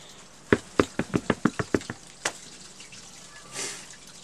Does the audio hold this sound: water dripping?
yes